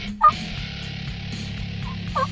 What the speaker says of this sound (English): A huge tom from high on top of the hill had seen her and hustled her way, trying to beat all of the other gobblers to her.